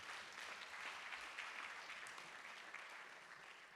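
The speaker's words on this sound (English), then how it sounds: "a round of applause for our wonderful host" An audience at a lecture applauds the host with steady, dense clapping that holds evenly for a few seconds before beginning to thin.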